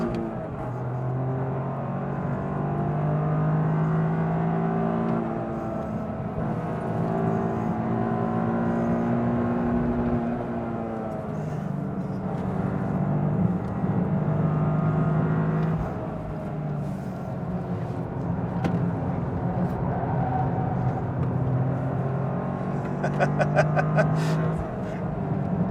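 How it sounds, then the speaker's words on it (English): Toyota GR Corolla Morizo Edition on a hot lap around a track, heard from inside the cabin as a steady engine drone that rises and falls through gear changes, with road and wind noise throughout. "let you hear what it sounds like doing a hot lap"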